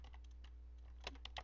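Quiet, quick typing on a computer keyboard, a few irregular bursts of key clicks close by with short pauses between them, no voices.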